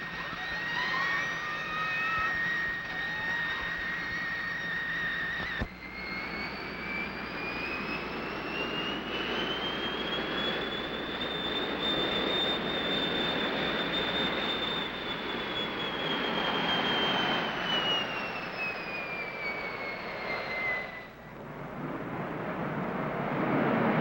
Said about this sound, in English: And then we're going to fly by with the afterburner on. And you'll hear that